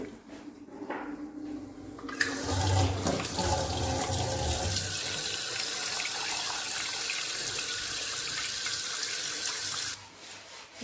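Tap water runs steadily into a cooking pot for boiling in a home kitchen, starting with a clunk after a few faint knocks, then a continuous loud rushing stream for about eight seconds before shutting off.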